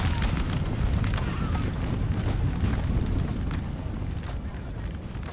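Musket volleys and artillery fire in the Napoleonic battle game Napoleon Total War form a dense, continuous roar of battle with scattered sharp cracks. The sound stays loud and steady throughout.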